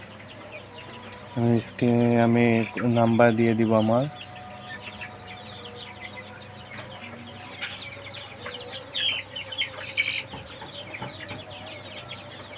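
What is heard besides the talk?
Sonali chicken chicks clucking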